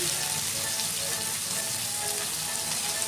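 Chopped onions fry in mustard oil with cumin, garlic and ginger, giving a loud, continuous, even sizzle close by with no pauses.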